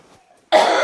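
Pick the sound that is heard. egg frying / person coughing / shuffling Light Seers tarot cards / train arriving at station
person coughing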